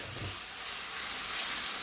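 Chopped onions frying in a pan on medium heat give off a steady, even sizzle and hiss throughout, with no voices.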